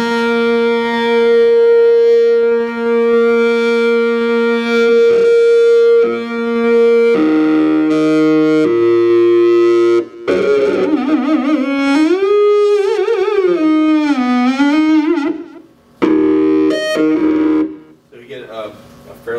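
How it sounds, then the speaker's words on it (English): A digital synthesizer plays sustained harmonic tones that grow harsher and more saturated as overdriven saturation distortion increases, with gliding, wobbling pitch toward the end; fairly loud and continuous. "as I increase the saturation"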